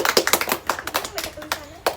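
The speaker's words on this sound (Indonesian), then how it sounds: "Beri tepuk tangan semuanya." A classroom of students claps for a group's presentation during a lesson, a sparse, uneven patter of individual hand claps at close range, with voices mixed in.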